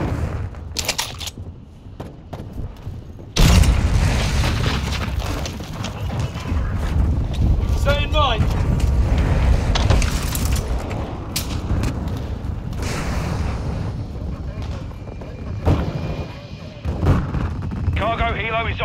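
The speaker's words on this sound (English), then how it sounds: "Hostile mortar strike incoming." Hostile mortar strike explosions in Call of Duty Modern Warfare 2 arrive as loud, heavy booms and gunfire bursts in a chaotic battle, with brief voice callouts heard between impacts.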